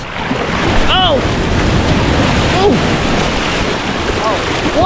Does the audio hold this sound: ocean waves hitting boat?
yes